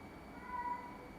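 A cat gives a faint, brief meow over a steady low background hum.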